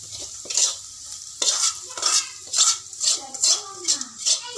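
A fried curry leaf tempering is poured into a masala koottukari curry and sizzles loudly. Sharp hissing bursts repeat in a quick rhythm, with faint clinks of a utensil, close up.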